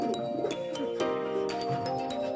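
A racing pigeon coos softly in a loft, low repeated coos over steady background hum with a few brief clicks.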